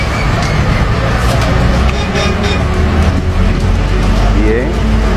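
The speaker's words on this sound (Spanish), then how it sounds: "Ya están desfilando todos los camiones con los ilegales haitianos en la República Dominicana." A convoy of trucks rolls past on a road in the Dominican Republic, a loud continuous engine roar and rumble close by, with voices talking over it.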